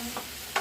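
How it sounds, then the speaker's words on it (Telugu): Deep-fried chicken pieces are stirred in a frying pan, giving a short quiet sizzle with two soft scraping strokes close by and no talking. "చూడండి, అలా కలుపుతూ ఉన్నాను."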